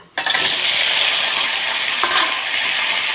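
Cumin seeds hit hot oil in a wok with a sudden loud sizzle that continues as a steady, bright frying hiss close up, with no talking.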